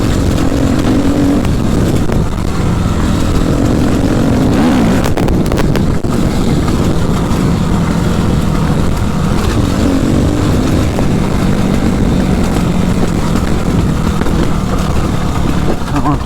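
A Suzuki RM-Z 250 motocross bike's engine drones loudly and continuously while being ridden on gravelly off-road ground, with heavy wind buffeting the microphone and occasional speech.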